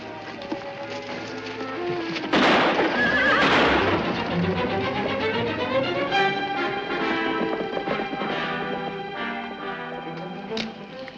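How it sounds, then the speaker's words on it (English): Horses whinny loudly and hooves clatter in a 1953 western film scene, with a burst of loud neighing and galloping that carries on under a busy outdoor soundtrack. "Maria, get to the horses."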